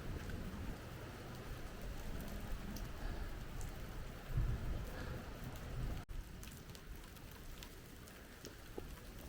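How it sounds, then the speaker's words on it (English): Heavy rain falls steadily at the Angkor Wat temple complex, a dense, continuous hiss of drops on stone that holds at an even level throughout, with a brief dip partway through. "It's raining a lot, but I'm gonna do it."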